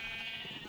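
A single short sheep bleat on a sheep farm in Minecraft, a brief nasal cry heard alone and fairly quiet.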